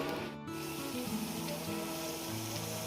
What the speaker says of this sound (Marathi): तर इथे माझ्या चकल्या आता मी तळून घेते